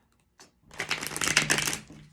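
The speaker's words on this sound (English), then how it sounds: "let me shuffle first" Tarot deck from the Artist's Inner Vision line being shuffled by hand, a brief tap then a dense run of quick papery riffling flutters lasting over a second, close and fairly loud with no talk.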